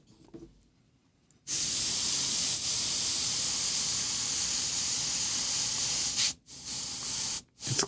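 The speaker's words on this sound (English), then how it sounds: "You're gonna see it looks really black in the airbrush, but when I spray it thin, it's not gonna be pure black." An airbrush sprays thinned black paint in a steady, loud hiss that starts abruptly, runs for several seconds, then cuts out twice in short breaks before resuming.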